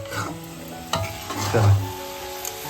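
Churan, a sweet Konkan dish, is stirred and mixed in a pan over a wood-fired stove: scraping strokes and a soft sizzle, with a sharper knock near the middle and a thicker swish after it.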